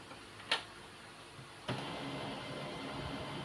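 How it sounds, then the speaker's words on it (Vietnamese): A Canon 6230dw laser printer powers up with a sharp click, a second mechanical clunk, then a low, steady motor whir that continues quietly in an otherwise still room. "chừng nào máy in khởi động xong thì mới thả tay ra"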